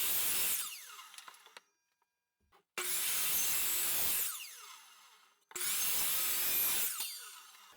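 A wooden board cut at a 15-degree angle with a Japanese pull saw or miter saw: three loud, sustained bursts of cutting noise separated by short pauses, close by, with no voices.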